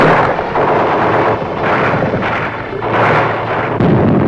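Dense, continuous wartime gunfire and heavy booming blasts in city streets during the Vietnam War, loud and rumbling without any break, with no voice over it.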